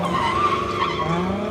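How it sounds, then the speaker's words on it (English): Drift car at a competition pulling a big handbrake slide, tires skidding and squealing continuously over a loud engine drone, close and sustained throughout. "a big handbrake slide"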